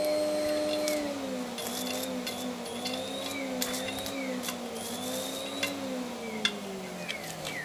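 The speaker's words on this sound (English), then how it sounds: "Vacuum cleaner is a ballast for a fluorescent light tube." A vacuum cleaner acting as ballast for a fluorescent light tube produces a continuous droning whine with a slowly wavering pitch and a few faint clicks, steady and close throughout.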